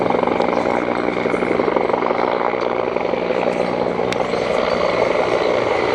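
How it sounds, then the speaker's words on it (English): Ventura County Fire and Rescue helicopter, sheriff-owned and used for rescues, flying near Camarillo airport, its rotor and turbine making a steady, loud, continuous drone throughout with no talking. "Here's the Ventura County Fire and Rescue helicopter."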